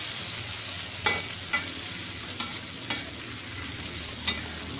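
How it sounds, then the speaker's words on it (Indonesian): Ground spice paste with chillies sautéing in hot oil under a steady sizzle, with a few distinct scraping strokes of a spatula stirring it, close and alone. "kembali saya aduk semuanya."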